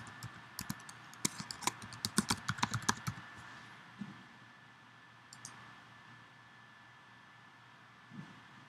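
Rapid, irregular keystrokes clatter on a computer keyboard for about three seconds as login details are typed, followed by a couple of isolated clicks over a faint steady hum in a quiet room.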